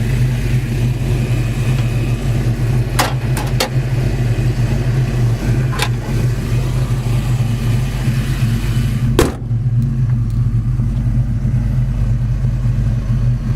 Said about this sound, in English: It does have new Flowmaster dual exhaust. It just sounds great.